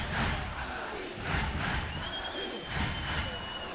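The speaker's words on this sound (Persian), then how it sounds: "هرمزگانی یک صدا تیم رو تشویق می‌کنه." Volleyball fans in an arena cheer their team with loud, unified chanting that rises and falls in repeated waves, a dense crowd roar filling the space.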